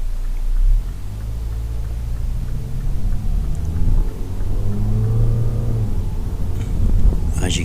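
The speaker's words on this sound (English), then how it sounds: "listen to this little Clubvan and see what you think" A Mini Clubvan engine hums smoothly while driving, a steady low drone with gentle rises in revs and road and wind noise, close inside the cabin.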